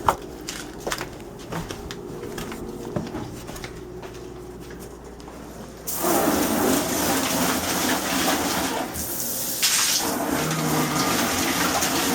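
Quiet clattering and handling sounds give way to a strong rush of running water, like a tap turned on full, continuing steadily to the end.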